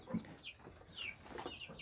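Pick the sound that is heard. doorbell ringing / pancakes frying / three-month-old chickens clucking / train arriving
three-month-old chickens clucking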